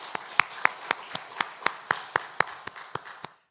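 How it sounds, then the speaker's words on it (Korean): A church congregation at a Sunday worship service claps to celebrate birthdays, a fairly quiet, steady rhythm of about a dozen distinct unison claps in a roomy space, stopping cleanly after three seconds. "우리 박수로 축하합시다"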